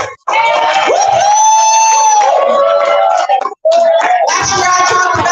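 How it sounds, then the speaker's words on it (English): A church congregation greets first-time visitors at a Saturday morning service with loud cheering, whoops and shouts filling the room. Hand claps are not clearly picked out, and the crowd noise breaks off briefly twice. "Let's give them a hand clap."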